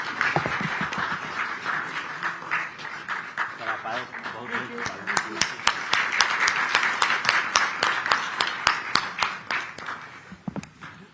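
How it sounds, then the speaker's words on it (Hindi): Applause rises in an auditorium at a Bharat Express event with Devendra Fadnavis, first a mixed crowd wash with voices, then sharp, evenly spaced rhythmic claps that come close together and loud before stopping. "देवियों और सज्जनों, तालियों में कोई कमी नहीं होनी चाहिए, सभागार तालियों से गूंजता रहना चाहिए।"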